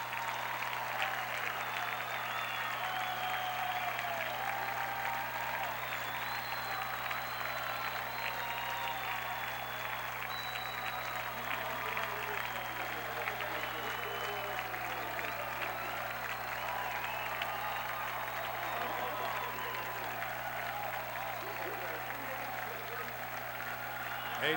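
Crowd applauding at Boswell Field in Geneva, New York, after Hobart College's NCAA Division III lacrosse championship win, a dense, sustained roar of clapping heard from a distance and faint, with a steady low hum underneath.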